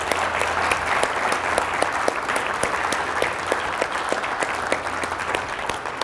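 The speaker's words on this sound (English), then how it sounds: "could we please have a round of applause for the staff that has put this weekend together?" An audience at a university reunion weekend applauds the event staff, a sustained crowd of clapping hands, close and steady with distinct individual claps standing out, no talking over it.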